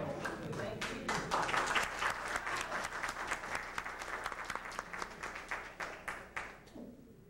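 Concert crowd applause for a gospel group: dense, sustained clapping from many hands, heard at a distance and fairly soft, fading away in the final second.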